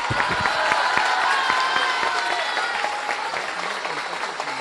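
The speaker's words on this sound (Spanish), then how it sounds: "Recibamos con un fuerte aplauso a la presidenta de la República, la doctora Claudia Sheinbaum Pardo" A large crowd applauds and cheers to welcome the president of Mexico at a public health event in San Luis Potosí, with steady, dense clapping sustained loudly throughout.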